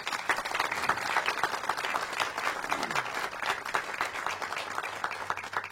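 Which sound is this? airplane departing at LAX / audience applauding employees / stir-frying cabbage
audience applauding employees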